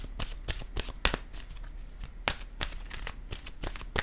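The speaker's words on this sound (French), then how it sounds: "Je vais piger maintenant une carte de mon oracle de l'âme intuitive." Oracle cards being shuffled by hand before one is drawn, a quick run of crisp riffling and slapping bursts, close and fairly steady over about four seconds with no talking.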